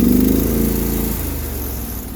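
A Sears loader tractor engine with dual rear wheels runs steadily nearby, a continuous low mechanical drone with a rattling hood, slightly louder at first and then settling into an even idle.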